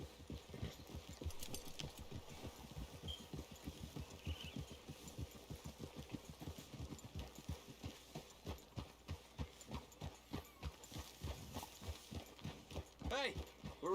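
Horse hooves clip-clopping at a steady walking rhythm through a wooded clearing in the Red Dead Redemption 2 video game, close and continuous, with faint engine-like rumble beneath and no clear talk.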